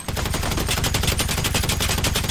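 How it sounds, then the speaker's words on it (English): Rapid automatic gunfire crackles close and loud in GTA Online, a continuous string of shots sprayed around a valet with no voices over it. "you just want to pull out your gun and just intimidate him by shooting all around him"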